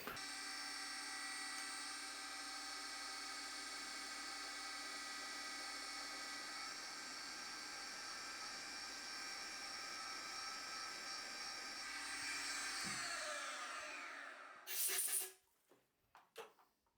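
A Deckel milling machine with a high-speed head drills a hole using a 2.05 mm carbide drill: a steady, loud high-pitched whine with a dense tonal hum holds for about twelve seconds, then spins down and ends in a few clatters.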